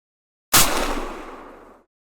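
A single loud gunshot from a Savage 110 Precision rifle chambered in .300 Win Mag, fired from under a canopy; a sharp crack followed by a decaying boom that rings out for over a second in otherwise quiet surroundings.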